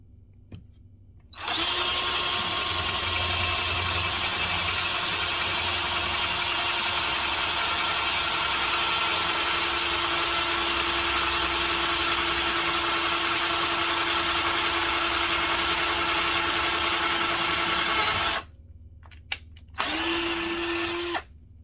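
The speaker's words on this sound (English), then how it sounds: "now I'm going to take my drill and put that hole in there." A power drill whirs steadily for about seventeen seconds at close range, drilling a hole in a dresser, then stops, followed by a brief second burst.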